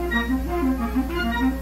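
Woodwinds play a bouncing line of even eighth notes, soft and continuous, without any talking.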